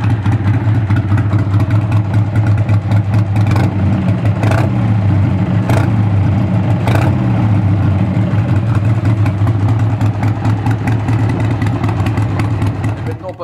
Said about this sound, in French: on est sur un modèle de 2001, donc à carburation, équipé de l'échappement Screaming Eagle